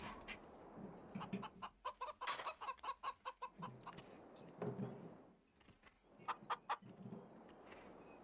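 Chickens cluck and squawk in the Farming Simulator 25 game, in short irregular bursts of calls with brief quiet gaps and light pattering sounds between them, close and fairly clear.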